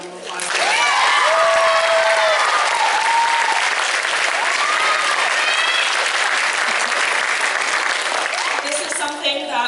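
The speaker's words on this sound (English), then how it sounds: "just give them a round of applause" Loud applause from a school musical audience at a Matilda Jr. performance, sustained dense clapping close up, with whoops and whistles and cheering voices over it.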